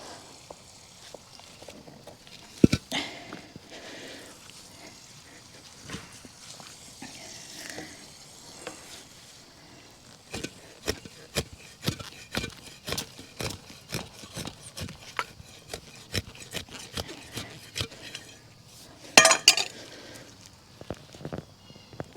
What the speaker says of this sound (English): I'm gonna tip this pot over and then we're gonna try and pull it out that way